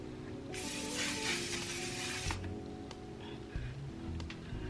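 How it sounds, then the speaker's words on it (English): A short, steady hiss of One Size setting spray misted onto a face during a makeup routine, lasting nearly two seconds over low room noise and a faint hum. "We're going to set my face with the One Size setting spray"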